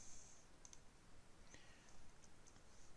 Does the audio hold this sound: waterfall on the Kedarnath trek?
no